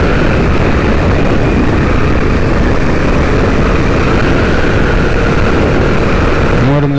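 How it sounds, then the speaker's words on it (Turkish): A small 25cc motorbike engine roars at high revs during a wheelie. It is loud and continuous, buzzing with heavy wind rumble throughout, and a brief rising whine comes at the very end. "25'lik motorla ön kaldırıyor."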